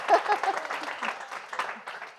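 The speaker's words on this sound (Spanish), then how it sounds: "Un aplauso, ¿no?" Audience in a Spanish public-speaking talk applauds with scattered, moderately faint clapping that rises briefly at the start and continues unevenly before thinning out.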